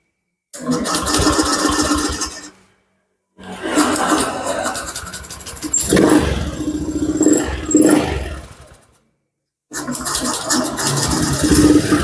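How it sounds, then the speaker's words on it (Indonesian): Fuel-injected motorcycle started with its electric starter: several bursts of cranking and engine noise separated by short silences, with a running stretch in the middle, close and fairly loud, with no voices. "kita kunci kotak on, kita hidupkan pakai electric starter"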